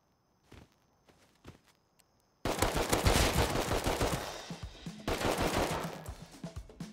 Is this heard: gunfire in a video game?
yes